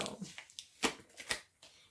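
A cardboard subscription box torn open by hand without scissors, giving a run of scattered rustling, ripping and tapping bursts close to the microphone.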